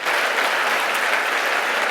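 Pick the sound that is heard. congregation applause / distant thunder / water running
congregation applause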